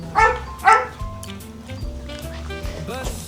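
Puppies at a fenced Idaho acreage property bark at approaching visitors, two loud close barks at first, then softer yips and whines under faint talk.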